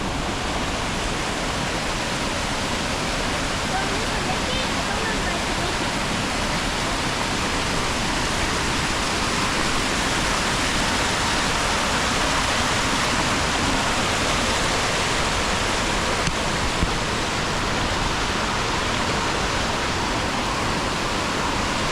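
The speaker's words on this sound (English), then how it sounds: "But we came to our water crossing." A stream crossing on the Cinchona waterfall trails in Costa Rica, water rushing in a steady, broad hiss that fills every moment, loud and close with no breaks and no voices heard.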